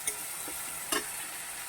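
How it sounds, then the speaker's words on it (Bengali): Spice masala frying in a pan for vegetarian jackfruit kofta curry, an even close sizzle with two brief scrapes of a spoon against the pan. "মশলাটা কষানো হয়ে গেছে"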